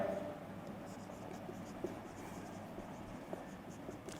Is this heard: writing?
yes